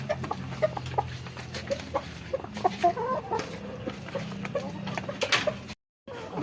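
Several heritage chickens cluck and cackle steadily at close range, with scattered short calls over a low background hum, then a brief cut to silence.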